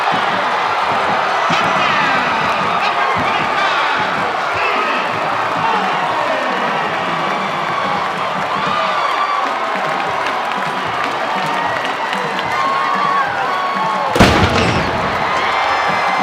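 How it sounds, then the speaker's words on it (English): Stadium cannon firing after a touchdown at a college football game, Georgia Southern hosting Appalachian State: a loud, steady crowd roar of cheering runs throughout, and a single sharp cannon boom bursts out near the end. "As the cannon fires"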